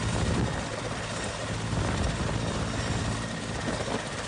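An army helicopter flies a rescue operation through rain and snow in Himachal Pradesh, its rotor giving a steady, loud, continuous drone with rhythmic blade chop throughout, with no voices.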